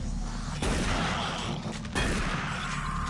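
Dense explosive bursts and gunfire from a video game, a thick rumbling barrage that swells abruptly twice and keeps pounding without pause through the short stretch.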